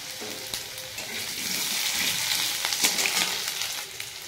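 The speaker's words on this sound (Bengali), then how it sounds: "আলুটা ভাজা বসিয়ে দিচ্ছি" Potato pieces fry in hot oil with a continuous close sizzle and crackle, occasional scraping stirs rising briefly above the steady hiss.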